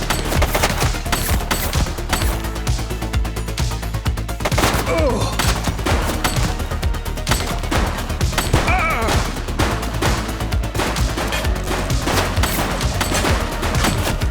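Dense gunfire in the police video game The Precinct: rapid bursts and repeated shots crackling loudly over a heavy game soundtrack for the whole stretch, with only brief faint voices.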